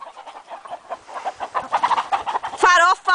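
A chicken squawking frantically while a dog chases it, loud and close, with sharp squawks breaking out near the end over excited shouting voices.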